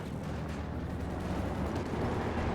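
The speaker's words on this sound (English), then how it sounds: "Strafing run here from Stephenn in the south" Strafing run in the Company of Heroes 2 strategy game, a dense continuous rumble of rapid gunfire and heavy booming impacts, loud and sustained throughout without a break.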